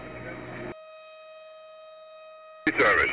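A tornado warning siren drones on a single steady tone across a city in Omaha, heard alone for a couple of seconds between bursts of louder broadcast noise and talk.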